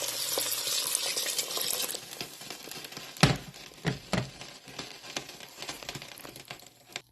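Chopped onions and garlic sauté in a pot with a soft sizzle. Then broth is poured in, and stirring brings scraping and clinks, a few sharp knocks, and crackles that gradually die down. No one speaks.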